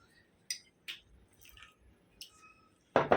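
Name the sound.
mixing semolina with a little water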